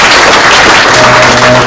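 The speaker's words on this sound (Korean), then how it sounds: "하나님께 영광의 박수 한번" A church congregation at a missions conference claps loudly in a dense, continuous burst of applause, with faint tonal sound underneath toward the end.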